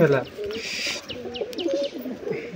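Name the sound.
giribaz pigeons cooing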